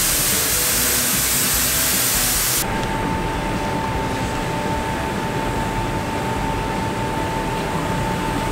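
A steady, loud hiss of a spray gun applying glitter paint to a drift car runs throughout, changing tone partway as the spraying continues without pause.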